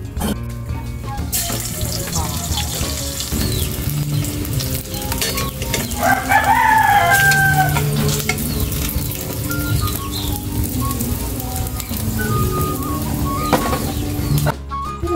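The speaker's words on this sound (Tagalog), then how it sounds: "Ipiprito muna natin ang daing." Dried fish (daing) frying in oil in a single pan, a continuous loud sizzle and crackle with occasional stirring scrapes throughout, a rooster crowing briefly in the background midway.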